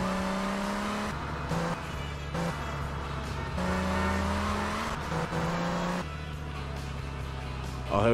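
Car engine droning steadily while driving in the video game GTA Vice City Stories, with shifting engine tones and brief dips as it changes pitch, a continuous mid-loud hum with faint talk over it.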